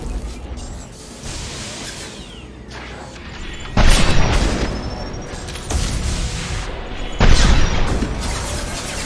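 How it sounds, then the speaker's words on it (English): A flashbang grenade going off in the Mass Effect 2 video game, with loud booming blasts over a continuous rumble of battle noise and no talking. "Oh, flashbang."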